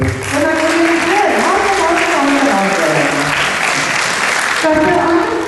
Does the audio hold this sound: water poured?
no